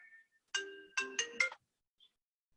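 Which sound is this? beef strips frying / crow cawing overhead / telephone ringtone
telephone ringtone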